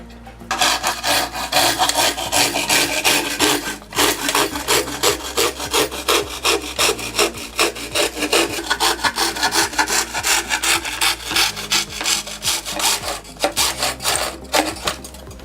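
A hand saw cuts through a wooden panel held in a saw guide, its rasping strokes repeating in a steady back-and-forth rhythm, loud and close, with only brief pauses between runs.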